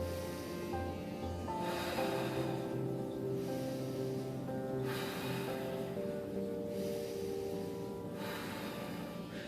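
Slow, deep breaths come during a shoulder rotation exercise for a mildly inflamed AC joint. Three broad, airy breaths sound close and quiet at regular intervals, with no speech.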